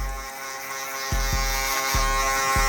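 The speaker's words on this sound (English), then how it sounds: "Now with the shaver, we're gonna shave out these sides and we're actually gonna finish up this taper now." An electric shaver buzzes steadily while shaving the sides of a low mid taper haircut, its drone close and continuous, with several short pitch dips as the blade strokes across the head.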